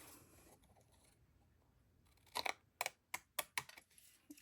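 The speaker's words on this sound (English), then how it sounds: "now I'm going to use my non-stick scissors, because I have some glue on there, and just trim away that extra brown" Non-stick scissors trim excess brown paper with glue on it, several sharp, close snipping cuts in quick succession after a quiet start, with no talk over them.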